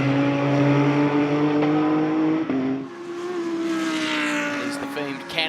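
GT3 race car on a push lap at Road America, engine note dropping under braking then climbing again as it accelerates, loud and close with a steady harmonic whine, tire and wind noise rising near the end; commentary voices run underneath.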